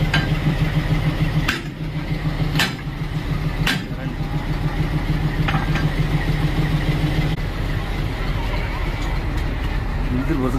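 A heavy locomotive engine idles with a deep, steady rumble and hum, interrupted by a few sharp clanks and hisses nearby as cars are coupled.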